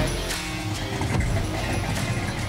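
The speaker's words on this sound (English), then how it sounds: "That sound you're hearing is a big block" A deep, rumbling 502 big block V8 engine in a 1970 Chevelle SS idles nearby with a steady low growl and a couple of small throttle blips.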